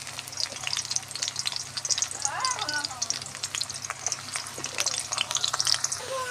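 A medium onion, finely chopped, frying in hot oil in a wok gives a close, steady crackling sizzle with occasional stirring noises throughout.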